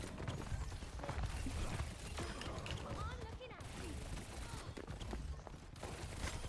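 Rapid bursts of automatic gunfire from Soldier in the online shooter Overwatch 2, a dense rattling fusillade with mechanical game effects running under mixed-in chatter from players.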